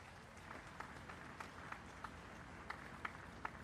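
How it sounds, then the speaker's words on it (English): An outdoor crowd at the ceremony declaring Barbados a republic applauds the Guard of Honor and flag parties, with distant, steady, faint clapping and a few sharper individual claps standing out. "how about a round of applause for the Guard of Honor and the flag parties?"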